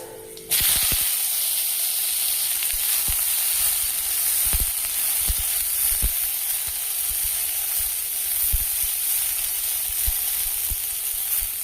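Pointed gourd shoots land in hot oil in a kadai with crackling panch phoron five-spice, setting off a loud, steady sizzle that runs unbroken, with the scrape and tap of a stirring spoon scattered through it and no talk.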